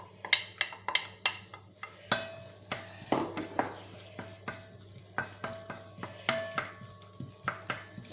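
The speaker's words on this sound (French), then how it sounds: "Ensuite, on va mettre notre oignon que nous avons émincé." Minced onion sautés in a pan for paella with a soft background sizzle, while a utensil scrapes and taps the pan in a steady rhythm. Everything sounds close, and no one speaks.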